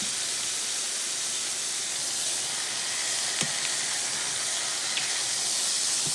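Steak sears in a hot pan with a steady, loud, broad sizzle and hiss that runs throughout, with a couple of faint sharp pops and no talking.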